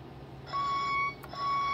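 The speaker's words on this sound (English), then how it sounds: "I'm about to have an alarm go off" A Back to the Future Doc Brown replica prop sounds an alarm as a steady, piercing electronic tone. It cuts out briefly and resumes over a low background hum.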